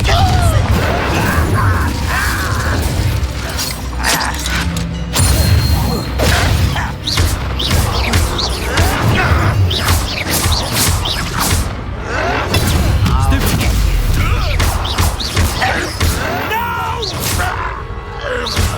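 A Confringo spell blast in Hogwarts Legacy, a loud burst of magical combat with booming impacts, whooshes and crashing effects layered over a continuous, dense game soundtrack.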